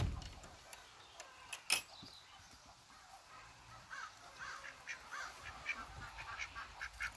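Ducks on a rainy farm, including a black duck, quacking faintly and at some distance, with scattered short calls and honks over a soft background of rain, no talk.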